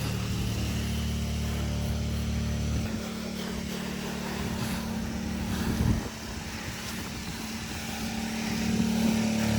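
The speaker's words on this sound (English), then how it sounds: "The wind is not my friend." Strong, extreme wind roars steadily and loudly, buffeting close by as a deep, continuous rumble that swells near the end.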